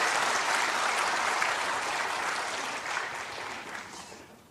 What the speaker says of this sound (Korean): 다시 한번 큰 박수 한번 해주시기 바랍니다.